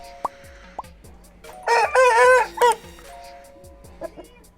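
A Tulak breed rooster crows once, loud and close, in a strained cock-a-doodle-doo lasting about a second, surrounded by sharp clicks and scattered faint clucks.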